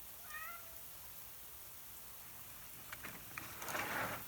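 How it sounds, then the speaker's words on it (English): A pet cat gives a brief meow while held in someone's arms at an open door at night, followed by the soft patter of freezing rain and ice pellets falling outside. "I've got my cat, Foweloe, in my arms."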